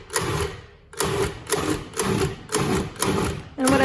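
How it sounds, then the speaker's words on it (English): Blender pureeing roasted tomatoes, peppers, onions and garlic for salsa, running in short repeated pulses of about half a second each, loud and close with brief pauses between bursts. "I'm putting a bunch of them into the blender, probably about half, which is about 3 to 4 sliced up tomatoes, and then all my peppers and onions and my garlic"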